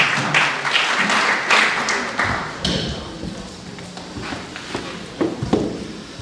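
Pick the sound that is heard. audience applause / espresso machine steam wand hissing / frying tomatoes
audience applause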